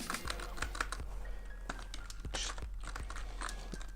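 Clicks and keystrokes on a computer keyboard while entering bootloader commands, an irregular run of close, sharp taps with a few louder key hits, alone with no talk.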